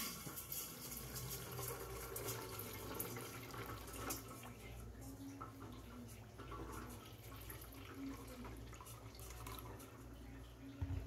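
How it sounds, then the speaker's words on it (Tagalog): Water poured into a puto steamer in a home kitchen, a continuous splashing trickle heard close and fairly quiet, with a voice in the background. "lagyan natin ng tubig"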